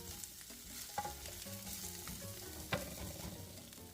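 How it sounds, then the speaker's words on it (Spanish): Cheese browning in a pan for chile con queso, a soft continuous sizzle with a few light utensil clicks and scrapes, fairly quiet with no talking. "Una vez que agregamos todo el queso lo vamos a dorar por unos 2 minutos de cada lado."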